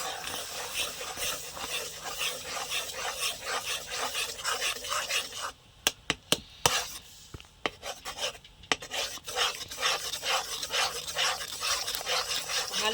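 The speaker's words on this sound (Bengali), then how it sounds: "এবার খন্তি দিয়ে নাড়ব" A spatula stirs warm milk made from powdered milk in a kadai for a mango sandesh, giving a continuous close scraping rasp, broken midway by a few sharp knocks against the pan.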